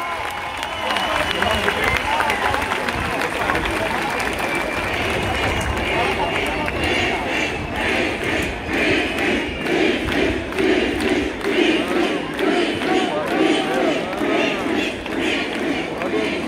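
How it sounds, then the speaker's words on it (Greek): A live hip-hop concert crowd at an outdoor venue in Thessaloniki applauds and cheers, a dense continuous roar of clapping and shouting that pulses rhythmically in the second half, loud and surrounding. "Κυρίες και κύριοι, θέλω το πιο δυνατό σας χειροκρότημα"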